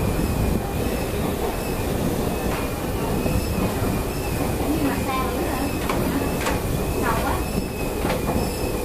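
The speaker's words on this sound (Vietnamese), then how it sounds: "bây giờ mình đi metro á" A metro train runs through Rome with a steady, loud rolling rumble and a sustained high wheel squeal throughout, with faint voices beneath it.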